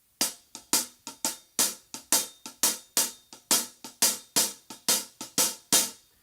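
A Haitian Kale drum part in a five-beat pattern, played solo as a steady run of sharp, evenly spaced hits with ringing decays, close and clear with no talking.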